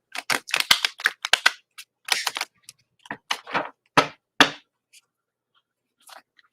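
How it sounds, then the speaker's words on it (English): A deck of tarot cards being shuffled during a reading, a series of quick crisp riffling bursts and snaps, dense at first then thinning to a few isolated clicks, close and dry with no talk. "let me shuffle the cards for you"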